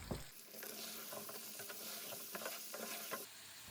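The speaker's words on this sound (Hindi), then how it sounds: "मैंने आलू डाल दिए, 2 चम्मच नमक डाल दिया। थोड़ा सा इनको भून लेना है बगैर पानी के" Potatoes with salt stir-fried dry in oil in a cooking pot, giving a steady close sizzle with repeated scraping and stirring strokes throughout, no voices.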